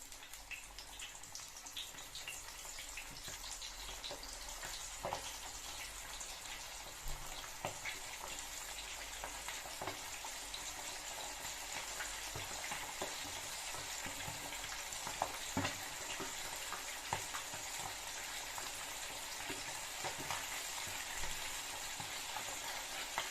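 Korean fried chicken pieces frying in hot oil, a dense, steady crackling sizzle that fills the whole stretch, close and even, with occasional sharper pops and no voices.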